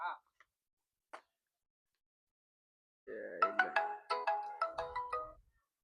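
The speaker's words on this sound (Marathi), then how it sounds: "फोन." A mobile phone ringtone plays a bright electronic melody of quick stepped tones after a few short blips, ringing clearly for about two seconds before it cuts off.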